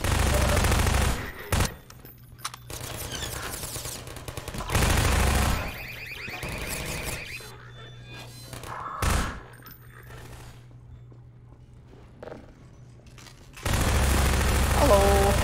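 Automated turret gunfire in Half-Life 2 roars in loud sustained bursts at the start and again at the end, with quieter game sounds and voices in the gap between.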